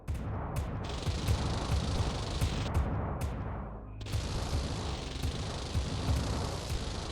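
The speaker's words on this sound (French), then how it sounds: "Ils essaient de dégommer les petits gars avec leurs gros canons là." Big cannons fire in a mech-building video game, repeated sharp booming blasts over a dense, continuous roar of battle, with no talking.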